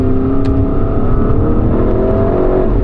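Porsche Cayenne Turbo GT engine under load while driving a winding road, a steady loud drone with layered harmonics and a slight rise in pitch, continuous with no talk.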